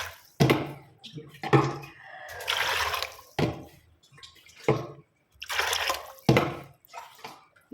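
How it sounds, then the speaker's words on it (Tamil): Water is poured in bursts into an idli steamer pot being readied to cook chickpeas, a string of splashing gushes broken by short pauses. "இப்போ தண்ணி ஊற்றிக்கலாம்."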